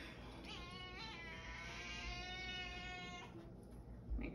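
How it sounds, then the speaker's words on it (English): A pet cat gives a long, drawn-out meow lasting a few seconds, close and clear, with a shorter call before it and quiet room sound afterward. "My cat wants to photobomb."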